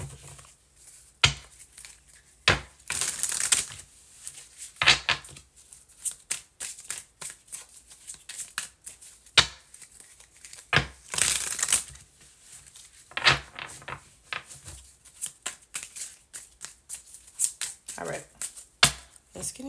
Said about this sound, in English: It's my first time using these cards, guys, so I'm going to give them a good shuffle.